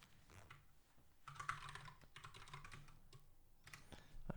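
Someone types steadily on a computer keyboard, a close, quiet stream of rapid key clicks with brief pauses and a few louder keystrokes.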